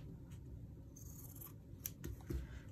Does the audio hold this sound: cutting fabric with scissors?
yes